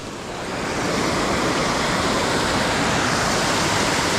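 A steady, loud roar of a waterfall on a trout stream in Iowa's Driftless Region fills the air, a constant broadband wash that swells in at the start and then holds.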